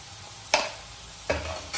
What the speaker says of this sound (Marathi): मीठ टाकून छान परतून घेऊ।